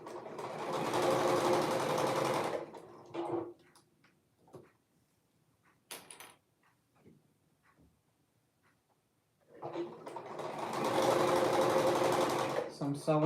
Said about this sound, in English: So I'm sewing still at this 3/8.